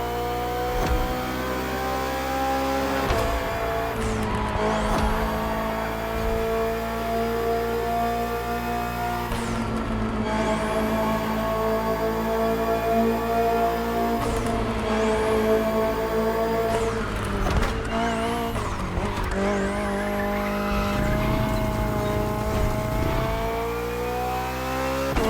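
The BMW M Hybrid V8 endurance race car in The Crew Motorfest screams through repeated gear changes, its engine rising, dropping and surging again over several bursts, with scraping tire skid near the end, loud and close.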